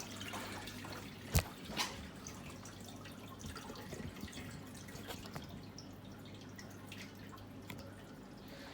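A few sharp drips and small splashes as water drains from a bucket after rinsing peat pellets for basil, then a quiet, faintly trickling stretch.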